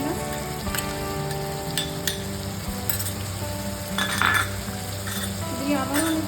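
Ginger-garlic paste being stirred in a pot for chicken biryani, with a soft steady sizzle and bright metallic clinks of the spoon against the pot, coming in irregular bursts.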